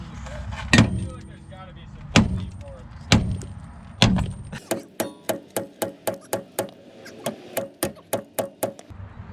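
A huge hammer strikes a go-kart, four heavy ringing metal blows spaced about a second and a half apart, followed by a rapid run of lighter, evenly paced hits.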